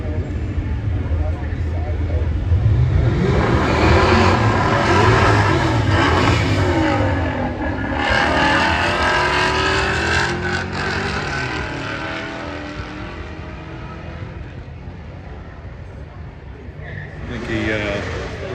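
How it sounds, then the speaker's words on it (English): A Fox body Mustang and a new Mustang race side by side at a Power Tour event, engines revving and roaring loudly and steadily for most of the run, with a commentator talking over the noise throughout. "We've got a Fox body against a new Mustang."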